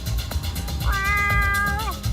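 A cat gives one long, clear meow that rises and then bends downward at the end, loud and close, over a rumbling background with a few faint knocks.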